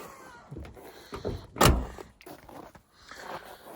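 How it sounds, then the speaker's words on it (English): A 1991 Ford F250 pickup truck door swings and closes with a solid thunk, surrounded by faint rattles and mechanical handling noises nearby. "Door's just shut mint on this thing"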